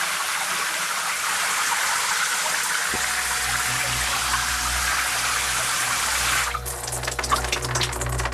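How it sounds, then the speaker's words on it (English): Water runs steadily from faulty household plumbing, a continuous broadband hiss with a low rumble joining partway through as the flow seems to surge, ending in irregular sputtering bursts like air spitting from the pipes. "Sorry, there's something wrong with the plumbing."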